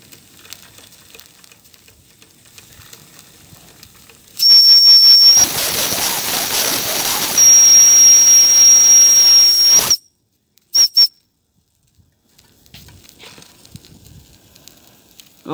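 A Wilesco toy steam roller venting steam, a loud continuous hiss with a thin whistling tone that cuts in and out, then brief bursts after quieter stretches.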